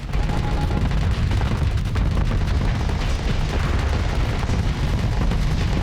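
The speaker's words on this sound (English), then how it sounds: "3 of you died in that explosion. We lost a Vanguard, Eradicator, and a Manticore to the junk barge blowing up." A junk barge blows up in a space battle video game, a sustained, loud rumbling blast with dense low booms and crackling debris filling the whole stretch without letup.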